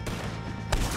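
Gunfire from O'Driscoll gang enemies being shot in the Western game Red Dead Redemption 2, with a dense burst of crackling game shots over a steady rumbling bed and one louder blast near the end.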